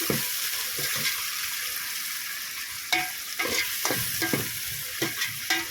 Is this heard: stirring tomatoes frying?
yes